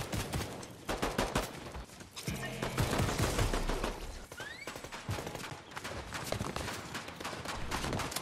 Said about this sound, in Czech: Někdo po mně střílí, hoši.